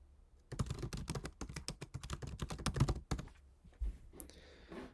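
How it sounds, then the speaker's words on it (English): Fingers type a line of text on a computer keyboard, producing a quick burst of close, crisp key clicks in an uneven rhythm, followed by a few final harder taps and a pause. "I'm just going to type this in."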